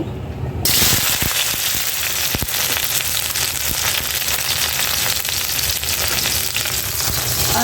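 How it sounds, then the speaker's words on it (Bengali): Bitter gourd (karela) frying in hot oil, a steady loud sizzle and crackle that runs the whole time with no talking. "এখানে হলো করলা করলাগুলি ভেজে নিব"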